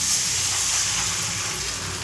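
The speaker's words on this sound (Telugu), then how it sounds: "ఇప్పుడు వాటర్ తీసుకున్నాం ఒక గ్లాస్ వాటర్ తీసుకున్నాం" A glass of water hits a hot pan of frying vermicelli, giving a loud, continuous sizzling rush that fills the whole short moment up close.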